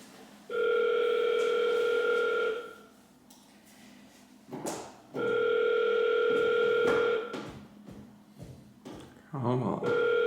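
A telephone ringback tone sounds during an unanswered cold call, two long steady rings separated by a pause, with some clicks and handling noises, then a third ring just starting at the end.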